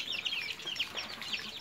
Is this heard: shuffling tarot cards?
no